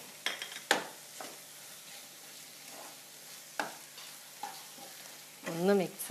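Masala paste fries quietly in oil in a pan for chicken mulakittathu. It gives a soft, steady sizzle, broken by occasional scrapes and taps of a stirring spoon.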